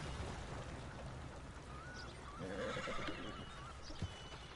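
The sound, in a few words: horse neighing in Red Dead Redemption 2 video game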